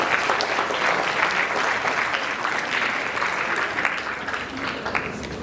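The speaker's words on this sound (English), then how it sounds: "So please, can we clap for some Kenneth?" A school assembly audience applauds steadily for about five seconds, a dense, loud wash of clapping from many hands with no break.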